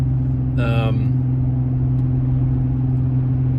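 Car driving on the ride home, a steady low engine and road hum from inside the cabin, with a brief burst of voice near the start.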